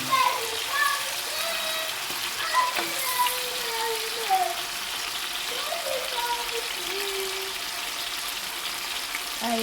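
Longganisa sausages fry in oil with a continuous crackling sizzle, and people talk over it, with a voice rising and falling throughout.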